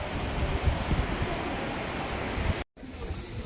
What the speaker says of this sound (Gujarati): આટલેથી તો જોવો છો સડસડાટ કરતું પાણી જાય છે